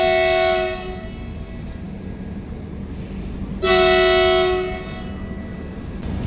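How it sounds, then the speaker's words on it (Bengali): A passenger train's horn sounds as it departs Bhairabi station on the Kolkata to Sairang route aboard the 13125 Sairang Express: two loud, sustained blasts, the second starting at about 3.6 seconds, over steady engine rumble. "হর্ন দিয়ে দিয়েছে"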